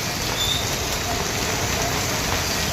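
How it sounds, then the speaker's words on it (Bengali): Heavy rain pours steadily in a broadband hiss, close and uniform with no breaks, and no voices over it. "আমাদের এখানে বৃষ্টি হচ্ছে।"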